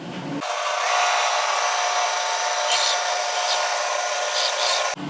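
A drill bit boring into a scrapped Honda Valkyrie carburetor gives a loud, steady high-pitched whine that runs for several seconds, then cuts off abruptly at the end.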